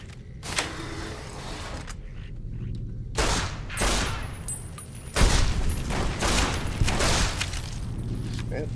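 Modded Fallout New Vegas gameplay with loud bursts of gunfire and blasts over a constant rumbling game background, heavier from the middle of the clip onward.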